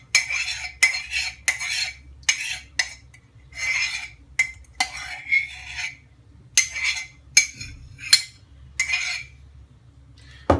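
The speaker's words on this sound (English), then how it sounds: "I'm just going to mix it all together. Mix it really good." A utensil mixes buttermilk into a thick chicken coating in a bowl, giving repeated scraping, clinking strokes in an uneven rhythm, close and fairly loud, with no talking.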